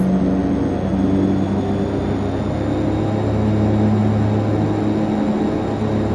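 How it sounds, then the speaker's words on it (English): The twin turboprop engines of a DHC-6 Twin Otter in the FSX flight simulator hum steadily and loudly while taxiing, a continuous droning whir with a constant high whine and no talk. "Sounds like you're giving her a ton of thrust, but really you're not."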